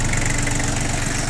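Yanmar F18D Japanese mini tractor engine idling nearby, a loud, steady, even diesel rumble with no pauses.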